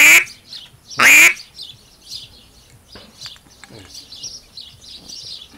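Two loud, raspy quacks from a duck call ring out close by, followed by softer scattered chirps and faint calls.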